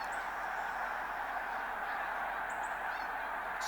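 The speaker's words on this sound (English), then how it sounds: "geese" Wintering geese in North Carolina honking repeatedly over a steady flock murmur, several distinct calls standing out near the end, moderately close and clear with no talking.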